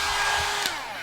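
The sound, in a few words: blow dryer blowing on a cat's fur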